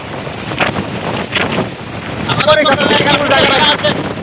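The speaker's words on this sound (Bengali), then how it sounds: "এত পরিমাণ বাতাস যেমন বড় বড় ঢেউ আসতেছে" Strong gusting wind buffets the microphone while big sea waves churn and splash nearby on the shore, loud and continuous.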